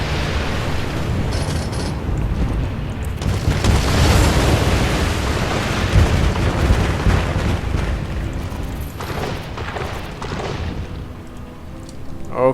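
Buildings demolished in SimCity, a continuous rumbling run of booms and crashing debris, loud and dense, rolling explosion-like blasts one after another for the whole stretch.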